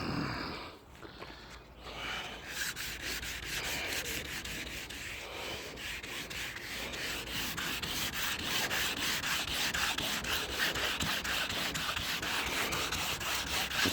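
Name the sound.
wet sanding 1957 Bel Air car paint with 400 grit sandpaper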